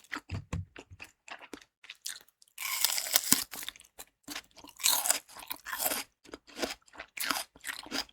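Raw onion, eaten alongside pork in pork-and-rice soup, crunches loudly in close, wet bites, with a steady string of chewing crunches and short quiet gaps between mouthfuls.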